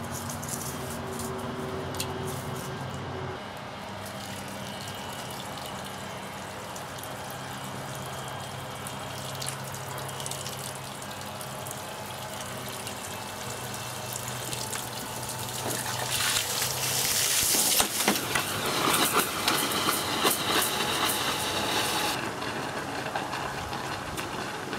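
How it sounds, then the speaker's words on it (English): Air is blown through a garden hose, forcing the leftover water out in a steady rushing gush that swells louder near the end before easing off, with no talk over it. "So I actually blow air through this hose and out through the other hose."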